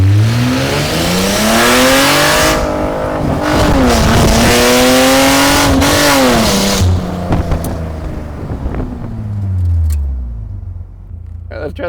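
A Mercedes SLK320 launches hard, its engine revving high and climbing while the tires spin, with the pitch rising, wavering and then dropping as the car lets off, loud and close from inside.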